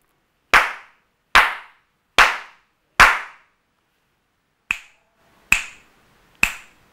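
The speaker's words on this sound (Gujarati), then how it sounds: "ફરીથી હું અહીંથી તાળી અને ચપટી વગાડીશ એ તમારે સાંભળવાના છે" Seven sharp hand claps and finger snaps, close and loud in an otherwise quiet room: four fuller claps evenly spaced, a pause, then three lighter, crisper snaps.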